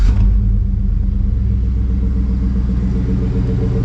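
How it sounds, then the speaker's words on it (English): A 2007 Chevrolet Silverado truck engine catches and settles into a deep, steady exhaust rumble, loud and close, idling evenly with a throaty low burble throughout. "See, it's got a nice purr from that exhaust."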